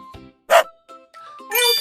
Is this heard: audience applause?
no